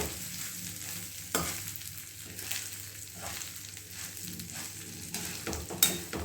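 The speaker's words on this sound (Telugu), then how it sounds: "ఈ రైస్ని ఇందులో యాడ్ చేసేసుకున్నాను. దీన్ని మంచిగా మిక్స్ చేసేసుకుందాం." A spoon stirs lemon rice in a pan, with soft scraping strokes repeating in a steady rhythm over a low, constant sizzle, close and quiet, with no voices.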